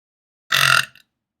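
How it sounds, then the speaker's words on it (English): A single short, close burp erupts during a late-night livestream, loud and rough for a moment before trailing off into silence, with no talk around it. "Burp."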